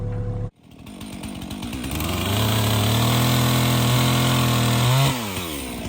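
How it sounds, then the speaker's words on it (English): Chainsaws working on a homestead in Alaska cut in after a brief silence. The motor revs up into a loud, close, sustained high whine that holds steady for several seconds before dropping back to a lower idle. "You can hear the chainsaws in the background."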